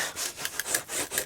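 A bone folder rubs back and forth across paper during bookmaking, pressing down taped pieces. The scraping comes in rapid, close, fairly loud strokes with no voice over it.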